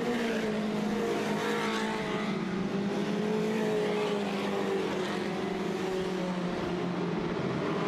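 Dirt track race cars roar around the Southern Ontario Motor Speedway oval, engines droning continuously with rising and falling pitch as the pack passes, loud and steady without talk.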